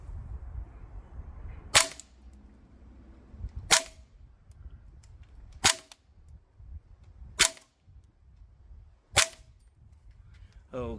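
A Tokyo Marui SCW9K Pro G airsoft rifle fires 0.25 g BBs on green gas without a suppressor or tracer: five sharp, loud, separate pops spaced about two seconds apart over a quiet outdoor range background.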